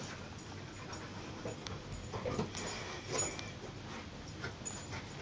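A springer spaniel pants and whimpers softly while fetching shoes indoors, faint, uneven breathy sounds with small whines close by.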